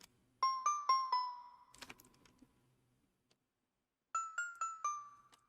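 Bell sample played dry in FL Studio, two quick runs of bright struck bell tones in a rhythmic pattern, each bright note ringing briefly, separated by a short gap with soft clicks.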